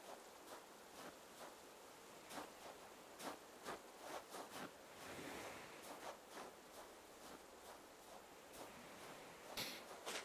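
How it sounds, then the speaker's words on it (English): Background ocean waves in the Animal Crossing video game, a soft continuous surf wash with faint recurring crackly clicks layered over it, quiet and steady throughout without voices. "There is like background like ocean wave sounds."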